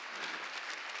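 Church congregation clapping in unison during a Korean worship service, a brief faint burst of rhythmic clapping.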